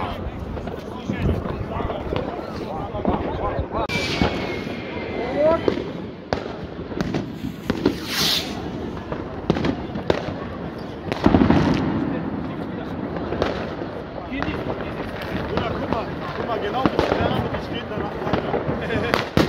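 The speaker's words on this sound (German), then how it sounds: "Knaller" New Year's Eve fireworks and firecrackers in Słubice go off in frequent sharp bangs and crackling bursts, some near and loud, others distant, under wind noise, with people talking and cheering throughout.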